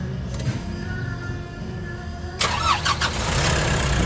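A Nissan NV350 van, just after cleaning of its EGR valve and turbo, cranks over and fires up, then settles into a steady close-range idle hum.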